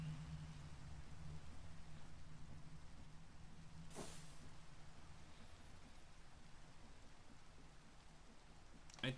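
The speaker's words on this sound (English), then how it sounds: "Of course, I can't sleep in rain." Steady rain falling in the modded Minecraft Sky Edition world, a soft continuous hiss and patter spread evenly throughout, with one brief sharp crack partway through and a faint click at the end.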